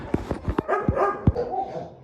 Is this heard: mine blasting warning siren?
no